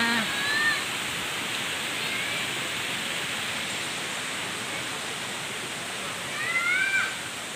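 Sarika Waterfalls in Nakhon Nayok, Thailand, pours as a steady, dense rush of falling water close by, broad and continuous, with brief faint chirps near the start and end.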